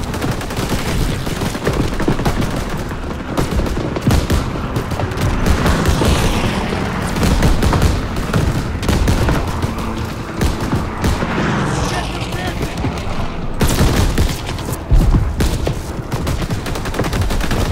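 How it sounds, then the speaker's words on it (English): Heavy machine gun fire in the Call of Duty: WWII video game, dense bursts and booming shots filling the scene with game effects and voices mixed in throughout. "This machine gun seems to be super heavy."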